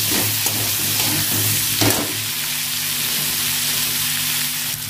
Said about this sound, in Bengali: এবার নিয়ে দিয়ে আলুটা একটু ভেজে নেবো। একটা পেঁয়াজ দিয়ে দেবো, এবারে ভালো করে ভেজে নেবো।